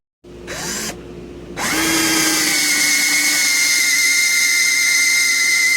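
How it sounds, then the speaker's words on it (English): A power drill starts with a short burst, pauses, then spins up again and runs loud and steady with a high whine, close by, countersinking screw holes. "I'm going to countersink these down a little bit so it won't fall over on me"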